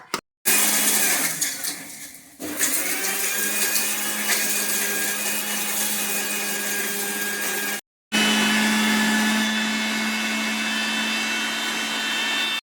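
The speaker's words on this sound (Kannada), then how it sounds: "ಒಳ್ಳೆ ಮಸಾಲೆಯನ್ನು ಒಳ್ಳೆ ಮಿಕ್ಸಿ ಮಾಡಿದರೆ ಹುಡಿ ಮಾಡಿ ರೆಡಿ ಮಾಡ್ಕೋಬೇಕು." A kitchen mixer grinder whirs loudly as it grinds spice masala to powder. The motor runs in two long bursts separated by a brief stop, its pitch settling as the spices break down.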